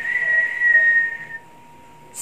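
A person whistles two sustained, steady tones one after the other, clear and close, with no talking; a brief faint sound follows after a short quiet pause.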